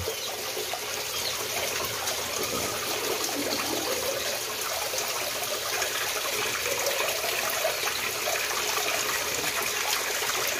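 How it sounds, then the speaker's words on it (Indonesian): Continuous rushing and splashing water from a small artificial waterfall inside an aviary, steady and close, filling the whole stretch without pause. "Ini air terjun yang bikin air di dalam apiari jernih ya"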